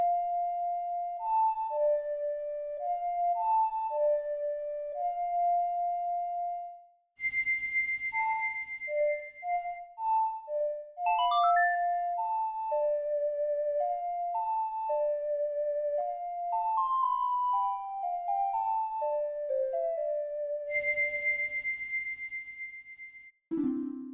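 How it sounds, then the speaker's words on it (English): The Song of Time plays as a slow, clear melody on the ocarina in The Legend of Zelda: Ocarina of Time. The phrases repeat and are broken by bright chime-like game sound effects, with no talking. "So this is the Song of Time."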